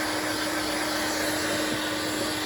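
A steady, unbroken suction roar from a Henry Hoover vacuum with a brush, cleaning dust out of a PlayStation 3 console's bottom cover, close and constant with a low hum underneath.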